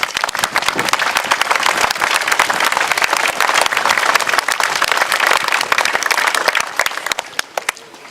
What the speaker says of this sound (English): let's give him all a round of applause